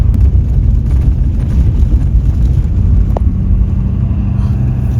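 Truck camper rumbling and shaking over a rough gravel patch on the road toward the Alaska border, a steady, loud low drone of engine and tyres running unbroken throughout, with no voices.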